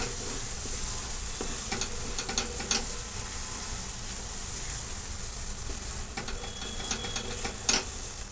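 Bheja fry masala is stirred in a frying pan, a steady sizzle broken by repeated scraping and clacking strokes of a spatula against the pan, close and clear, with no voices.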